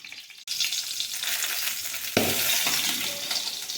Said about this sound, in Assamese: ইয়াত মই কেইটামান কেঁচা জলকীয়া গোটাই ভাজি ল'ম